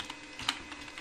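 Keystrokes on a computer keyboard while entering a password, a short run of soft clicks with one sharper tap in the middle, close and quiet, no talking.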